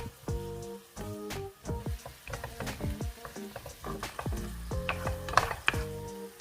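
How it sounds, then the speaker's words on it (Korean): Pasta noodles stir-fry in a pan with seasoned pasta water, a busy crackling sizzle broken by repeated scraping and tossing strokes of a utensil, close and steady. "간이 된 면수도 살짝 부어줍니다. 그리고 계속 볶아줍니다."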